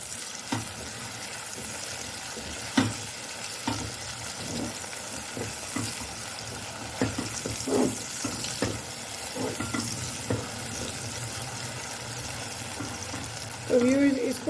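Chopped onions with added salt frying in a pan, a continuous close sizzle with intermittent stirring scrapes and knocks of the spoon against the pan.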